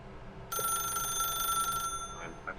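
A telephone in The Stanley Parable rings with a bright electronic trill that starts suddenly, holds steady for over a second and then cuts off, leaving faint room tone and a few soft clicks.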